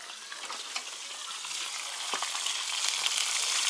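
Potatoes fry in very hot oil in a kazan, giving a steady, close crackling sizzle with small pops that grows slightly louder throughout, with no voices.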